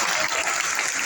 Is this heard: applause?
yes